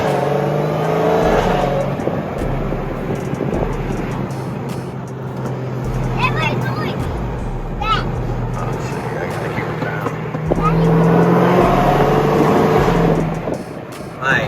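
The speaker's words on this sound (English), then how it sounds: "My God, that car sounded so good." Supercar engine revving loudly at a supercar cruise, a continuous deep roar that surges and swells across the whole stretch, with voices talking over it.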